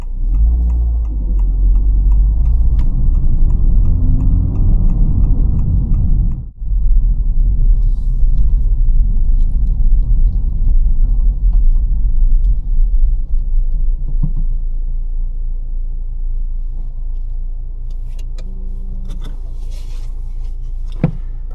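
Honda Civic Type R cruising at night, a steady low engine and road rumble inside the cabin that briefly dips around six seconds, then continues with faint ticking, no voices.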